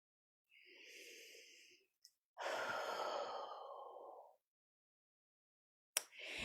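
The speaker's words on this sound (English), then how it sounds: "and take a deep breath with me." Slow, deep breathing up close: a long inhale, then a longer, fuller exhale, followed by another breath starting after a pause, soft and alone in quiet.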